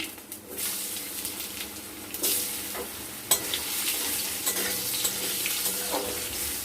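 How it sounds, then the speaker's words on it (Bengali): Potatoes frying in mustard oil with five-spice tempering and dried chillies, a loud, close, continuous sizzle broken by repeated stirring scrapes and clinks of a utensil against the pan, with no talking. "এবার আমরা ফোড়নে দিয়ে দেবো 5 ফোড়ন আর শুকনো লঙ্কা দিয়ে আমরা আলুগুলো দিয়ে দেব"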